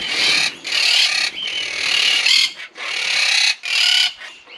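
Busy chorus of clucking and chirping birds, loud and close, in overlapping bursts with short dips between them, no talking.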